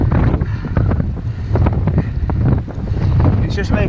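Wind roaring across the microphone while a cyclist rides into a headwind on hilly country roads, a loud, steady buffeting rumble with gusty bursts throughout and no clear speech.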